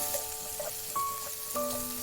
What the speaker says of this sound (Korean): 팬에 식용유를 넣고 다진 마늘을 넣고 볶고